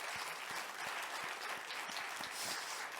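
A church congregation applauds the workers, praise team and accompanist who cleaned the sanctuary and restrooms; dense, steady clapping fills the hall without a break, moderately loud and with no talking over it.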